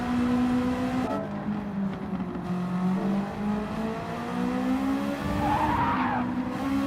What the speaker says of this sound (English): Just maxed out the rev limiter in second gear